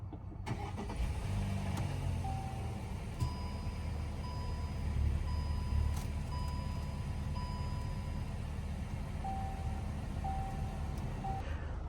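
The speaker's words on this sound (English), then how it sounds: "Just press down here to start the car." A VW Tiguan starts by push-button ignition, with a short engine catch settling into a steady idle, close and fairly quiet, alongside faint chime tones from the cabin.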